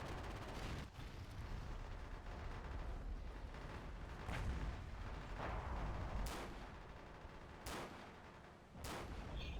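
Gunfire in the World War II shooter Forgotten Hope 2 crackles over a dense, constant battlefield din, with sharp isolated shots standing out near the end amid rumbling distant fire.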